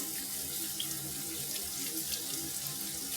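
Tap water runs steadily into a sink while a lobster is washed in a seafood cookery school kitchen, a constant close splashing hiss with no talk.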